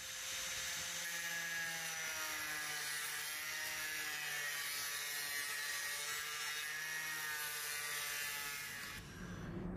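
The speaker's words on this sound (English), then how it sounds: "I'm going to take a hacksaw to these plastic bits and chop them off" Hacksaw cutting plastic bits off a TV power mains housing, a steady buzzing rasp that runs continuously for nearly ten seconds, fairly faint and close, with no talk.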